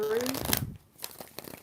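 Tarot cards are shuffled in a short riffle of crisp flutter and taps, close and moderately quiet, under a voice speaking at the start.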